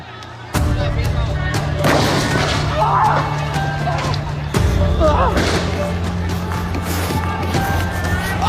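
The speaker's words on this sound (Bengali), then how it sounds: "আমার গায়ে গুলি পড়েছে" Police gunfire during a student protest: two loud sharp bursts, each opening a stretch of dense noise with crowd shouting and voices throughout.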